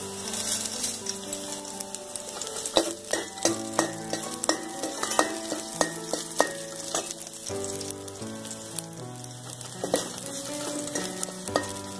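Fenugreek seeds fry in hot oil with browned garlic, a steady close sizzle broken by scattered sharp pops and crackles over a faint hum. Something tonal and melodic also plays throughout.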